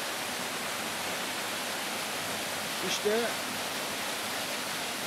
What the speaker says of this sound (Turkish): burada sevişen kayalar şelalesini görüntülüyoruz